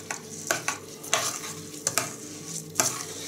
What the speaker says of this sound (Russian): Перемешиваю.